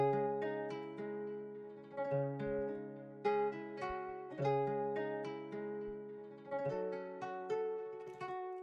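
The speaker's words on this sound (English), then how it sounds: "I have this loop here that sounds like this." A looped old-school hip hop instrumental beat with steady melodic chords over a punchy rhythm, repeating evenly at a clear, moderate volume with no voices.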